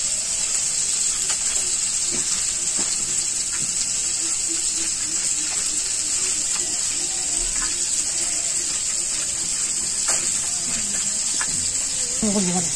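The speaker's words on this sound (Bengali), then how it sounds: "এই যে মাছ ভাজা হয়ে গেছে।" Fish fry in oil in a Bangladeshi village kitchen, giving a loud, continuous sizzling hiss with a few light clinks and a brief voice near the end.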